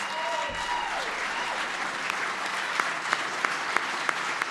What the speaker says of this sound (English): give a rousing applause to our Medal of Freedom winners